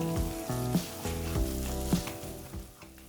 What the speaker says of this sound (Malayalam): മസാലയുടെ പച്ചമണമെല്ലാം മാറി എണ്ണ തെളിഞ്ഞു വരുന്നത് വരെ നമുക്ക് ലോ ഫ്ലെയിമിൽ വെച്ച് നന്നായി വഴറ്റിയെടുക്കണം.